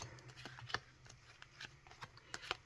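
Playing cards are handled and sorted by hand, producing scattered soft flicks and slaps as the cards are laid down one after another, quiet and close.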